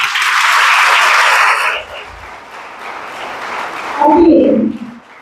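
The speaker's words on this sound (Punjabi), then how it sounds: "ਬੇਟੀ ਦੇ ਨਾਮ ਤੇ ਇੱਕ ਵਾਰ ਤਾੜੀਆਂ।" Applause for a student at a college seminar, a dense burst of clapping from a hall audience that fades after about two seconds, followed by a voice speaking over the room.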